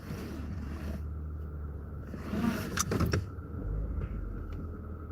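A car idles with its engine running while it is maneuvered into a parking space, giving a steady low hum with a few brief mechanical clicks and a soft whir midway.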